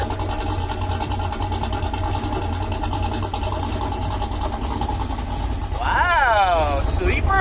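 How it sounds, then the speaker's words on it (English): A car engine with a valved exhaust idles with a deep, loud exhaust drone, then briefly revs higher near the end as someone speaks over it. "it also has a valved exhaust system that I can make quieter"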